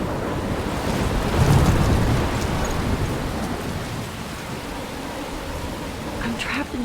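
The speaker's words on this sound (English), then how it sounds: "I'm trapped in a storm?" Stormy weather in Life Is Strange, a loud continuous roar of wind and rain like surf with low rumbling swells, steady throughout.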